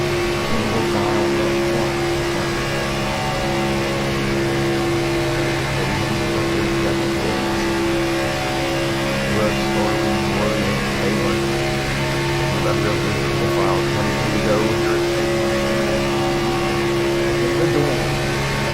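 Race cars circling Daytona in the iRacing game, a dense sustained engine drone with steady high-pitched whine holding constant throughout, with commentary voices talking over it.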